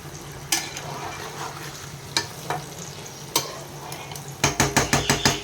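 Chicken rezala in a pot being stirred after saffron milk is poured in: a spoon scrapes and taps against the pot in scattered strokes, then a quick run of six clinks near the end, over a low steady simmer.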